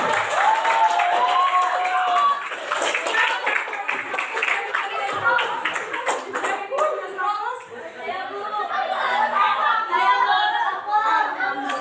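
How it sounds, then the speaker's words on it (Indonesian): Students in a classroom applauding during a teaching practice lesson, a sustained round of clapping mixed with chatter, laughter and a teacher's voice, fairly loud and close for the whole stretch. "Oh, ya, tepuk tangan dulu."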